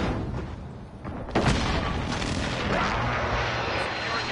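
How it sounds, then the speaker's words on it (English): An enemy airstrike in the Call of Duty map Nakatomi lands as a heavy, rumbling boom about a second in, then rolls into a sustained roar of explosions and gunfire in a noisy multiplayer battle. "Enemy pursuit airstrike."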